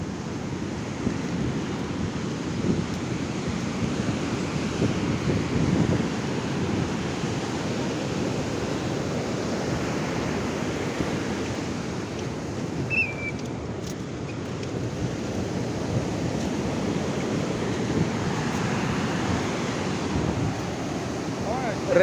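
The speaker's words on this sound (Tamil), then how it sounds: "மணலில் நடந்து போய் கடல் தண்ணியில் காலை வச்சா அதுக்கு பேர் தான் பீச்சு" Steady rush of sea waves breaking on a beach in Kerala, a continuous broad wash of surf mixed with wind, with no clear pauses.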